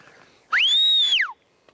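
A man gives a single clear, loud whistle, rising, holding high, then falling, to call a cheetah named Cyclops on a Namibian reserve. A faint tap follows.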